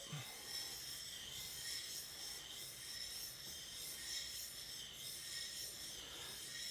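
A steel chisel rubbed back and forth on a sharpening surface to raise a burr, a faint, soft, continuous rasping hiss with gentle strokes, close by, with no voices.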